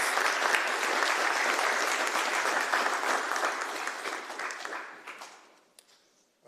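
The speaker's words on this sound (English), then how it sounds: "So a round of applause for Sal." Applause at an Eagle Scout ceremony: a steady round of clapping from an indoor audience, sustained for about five seconds and then tapering off into a few scattered claps.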